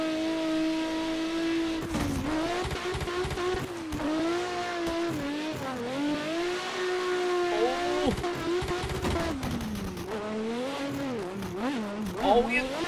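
A street car engine in Assetto Corsa whines and revs continuously while drifting on a touge track, pitch sliding up and down, with brief tire-like bursts and a voice talking over it.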